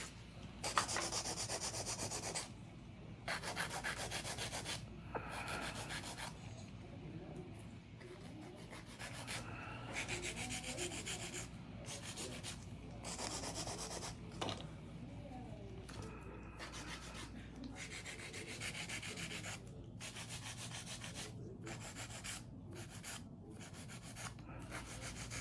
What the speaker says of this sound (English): And I'm gonna do some filing.